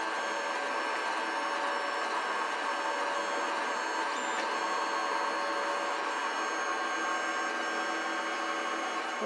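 A printer produces replacement tabs for a Minelab Equinox 800 metal detector coil, with a continuous mechanical whir, steady tonal hum and faint rhythmic ticks from close by, and no voices.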